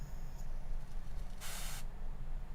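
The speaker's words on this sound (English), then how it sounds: "spraying aerosol spray straight on your face is not a great idea" An aerosol can sprays onto a face in one steady hiss of about half a second, loud and close, set against a low background hum with no talking.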